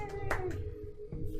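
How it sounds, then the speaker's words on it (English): Sharp hand claps burst out twice over a steady tonal hum, with low background sounds running throughout. "I clap and cheer. I do this."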